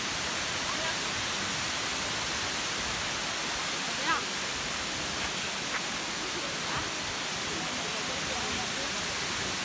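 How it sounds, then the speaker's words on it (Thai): Water flows steadily near Luang Prabang, Laos: a continuous broadband rush with no breaks, fairly even in loudness, with a few faint higher chirps over it. "น้ำไหลเข้ากัน"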